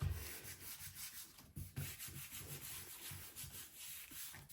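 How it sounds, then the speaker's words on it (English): A hand rubs paper down onto a gel printing plate with a copper background, giving soft, close, repeated scuffing strokes in a steady rhythm, quiet and alone. "Give it a good rub to make good contact."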